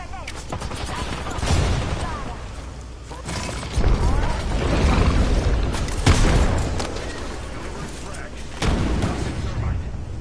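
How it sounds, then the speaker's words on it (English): A grenade goes off amid gunfire in the battle royale shooter Apex Legends: several heavy booms and rattling mechanical bursts punctuate continuous close-range combat noise, with character voice lines over the top. "Look out, grenade."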